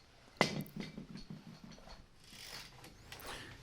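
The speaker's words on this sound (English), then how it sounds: "the lower ball joint, which is torqued to 56 Newton meters using an 18mm socket" Socket wrench with an 18mm socket tightening the lower ball joint nut on a BMW MINI R50: one sharp metallic clack followed by a quick series of ratcheting clicks, close and fairly quiet.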